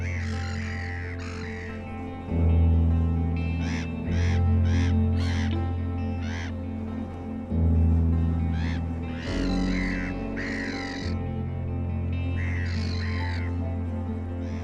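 Seagulls call harshly at Lake Constance while chasing a kite to steal its prey, loud repeated squawks in overlapping bursts over a low steady background, close and without talk.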